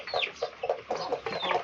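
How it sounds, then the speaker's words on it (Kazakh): Young rooster chicks and chickens cluck in a rapid series of short calls, close and moderately loud, with a couple of higher rising peeps mixed in. "Мына балапандар патуқтың балалары ғой. Мынау әтеш балапандар."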